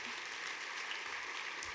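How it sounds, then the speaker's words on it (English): An audience at a rare disease awards event applauds in a brief, steady, distant-sounding burst of many hands clapping. "I think that deserves a round of applause."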